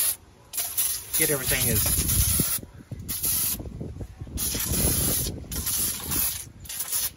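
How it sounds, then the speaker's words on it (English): A power washer sprays to degrease a 1970 Porsche 911E, giving a loud, steady hissing gush with bursts and pauses and rough spattering texture, while someone talks over it. "we're gonna try to degrease everything we can, hit it with the power washer"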